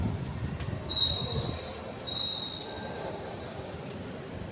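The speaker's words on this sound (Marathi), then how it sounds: "Ratnagiri railway station" A train rolls through Ratnagiri railway station with a rumbling low roar and long, high metallic wheel squeals that rise and fade, heard up close.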